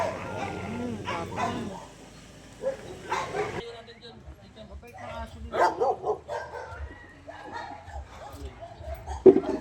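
Dogs bark and yip in short bursts at a charity ride event, mixed with people talking nearby; one louder bark near the end.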